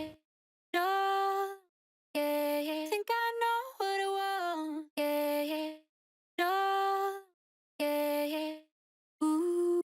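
A sampled vocal chop from Arcade plays as a series of short sustained sung syllables, some pitch-shifted, separated by silent gaps in a repeating rhythmic pattern, clear and fairly close.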